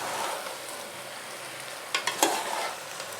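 Macaroni is stirred in a frying pan. A steady close sizzle runs throughout, and a few sharp scrapes of the spoon against the pan come near the end.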